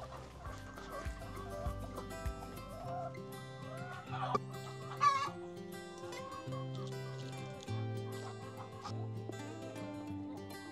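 Chickens clucking and squawking as they are fed on a farm estate in Martinique, with scattered calls over a steady background of musical tones and no talking.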